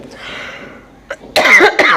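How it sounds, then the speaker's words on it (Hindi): A faint low voice murmurs briefly before a close, loud burst of harsh coughing, two or three rasping coughs in quick succession. "सॉरी मुझे बहुत खांसी आ गया"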